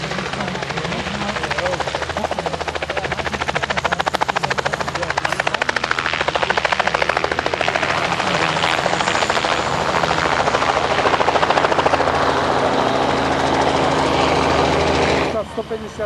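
A helicopter flies at the Slávnica 2013 air day in Slovakia with a loud, continuous rotor thudding and engine whine, while a voice talks over it throughout.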